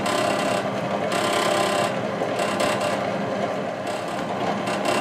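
A Mannesmann benchtop drill press bores into wood with a brad point bit, producing a loud, close, continuous grinding rasp that swells and dips slightly as the bit cuts through.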